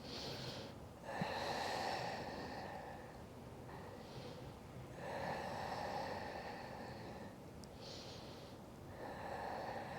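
Slow, deep breaths during a yoga forward fold, long airy inhales and exhales in a steady repeating rhythm, close and fairly soft, with no voice.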